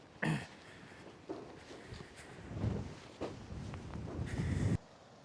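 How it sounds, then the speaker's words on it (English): Gusty wind blows across an outdoor vegetable garden with potato beds on a changeable, blustery day. It comes as irregular rushing bursts and buffets against the microphone, with no speech. "Oh, sure is windy today though."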